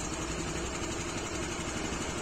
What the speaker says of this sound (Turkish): Marşa basıyoruz. Hiç gaz vermiyorum bak.